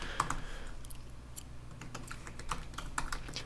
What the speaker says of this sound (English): We'll do a generic input field here.